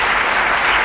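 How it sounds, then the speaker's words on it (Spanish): Applause from a seated audience at an education conference honoring a government minister, a dense wall of clapping, steady and loud throughout the short burst. "yo creo que ahí valdría un aplauso para el ministro Saavedra"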